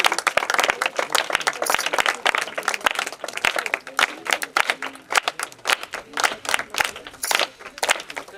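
Scattered, sharp hand claps from a congregation at a church inauguration in Abdullapurmet, close and uneven, with quieter crowd murmur and voices underneath.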